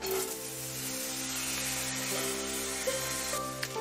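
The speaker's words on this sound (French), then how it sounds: "lancez les oignons dedans" Thinly sliced spring onion rounds sizzling in a hot sauté pan, a steady close frying hiss lasting throughout with small crackles near the end and no talking.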